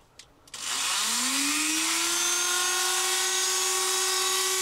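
A Dremel flex shaft carving wood: a click, then the motor spins up to a steady high-pitched whine that holds loud and even.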